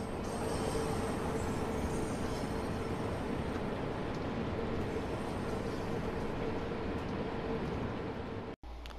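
A Bakerloo Line train in Train Sim World 2 gives off a constant, flat rolling hum and rumble with little variation, then cuts out briefly near the end.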